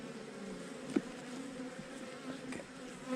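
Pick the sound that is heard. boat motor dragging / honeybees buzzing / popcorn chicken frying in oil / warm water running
honeybees buzzing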